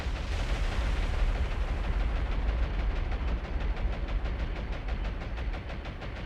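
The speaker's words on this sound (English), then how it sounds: "Second group's bombs are coming in." In the naval combat game War On The Sea, bombs explode on warships as a dense, sustained roar of heavy blasts and rumbling booms, loud and continuous with no speech.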